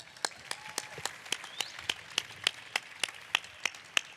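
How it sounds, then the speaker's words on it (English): Audience applause at a 2018 event, heard as sparse, evenly spaced individual claps at moderate distance rather than a dense ovation, faint and steady across the stretch with no talk over it. "Can we get another round of applause?"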